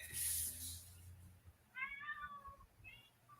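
Several cats meow in short, high-pitched calls, one loud cry first and then a few quieter mews, close by in a quiet room.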